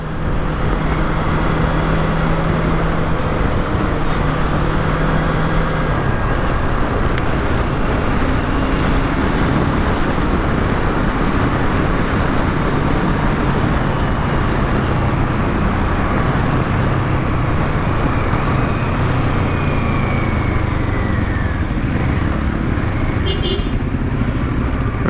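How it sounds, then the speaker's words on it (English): Stop-and-go city traffic heard from a 650 cc motorcycle, a loud, steady engine and road roar with wind noise that runs continuously throughout, with other vehicles blending into the wash. "This is going to be full stop and go traffic."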